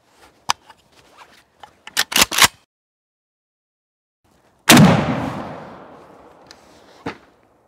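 Two loud, sharp AK-47 shots of 7.62 SP rounds fired outdoors into a birch tree, the second trailing off in a long rolling echo, with scattered clicks and handling noises before and a light knock near the end.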